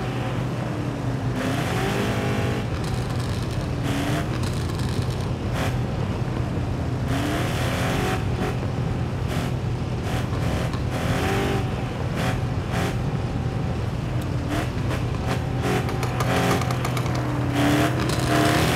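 A car engine revving in the Car Parking Multiplayer driving game at a classic car meet, a constant loud drone with repeated throttle swells and whirring rises, steady throughout with no voices.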